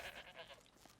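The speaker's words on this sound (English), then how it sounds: "Oh, it's a goat." A goat bleats twice in the Horizon Zero Dawn video game, heard in the Frozen Wilds expansion as a brief, moderately quiet pair of calls over a faint game ambience.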